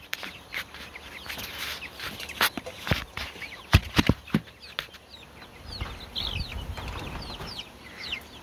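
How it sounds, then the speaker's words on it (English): A small backyard flock of chickens, including Black Marans, clucking and scratching about, with bursts of wing flapping and scattered louder calls close by, no talking. "this is chicken."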